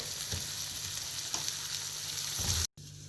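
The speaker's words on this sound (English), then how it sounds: "After 1 minute of sauteing, I'm going to add in the chili or kandari and mix it well" Chili, or kandari, sautés in hot oil for amla pickle with a steady, close sizzle and a few soft stirring scrapes. The sound cuts out abruptly near the end. No voices.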